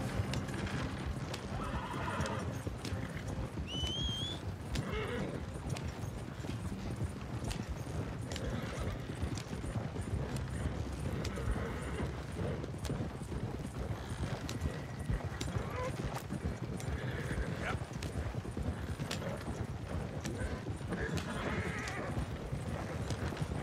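Hooves of a horse-drawn carriage clip-clop steadily and close in the video game Red Dead Redemption 2, a continuous rhythmic trot lasting over twenty seconds with occasional neighs and a voice talking over it.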